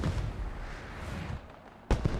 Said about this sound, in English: Look at the mortars coming down here on the first cap.